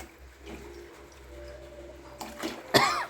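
Strained water splashes into a hot pan of raw mango pickle and sizzles in a brief, loud burst near the end, after a quiet kitchen hum.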